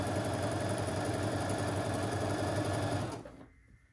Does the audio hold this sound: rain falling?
no